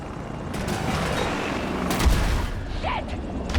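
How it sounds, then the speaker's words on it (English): A stealth helicopter dive-bombs a target in the Battlefield 2042 video game, producing a dense, loud roar of rapid gunfire and blasts with a heavy impact boom near the end. "Commence the dive bomb, here we go."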